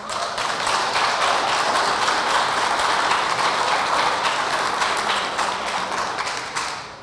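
Sustained audience applause at a mayoral candidate debate, a dense, even wash of clapping lasting several seconds before tapering off.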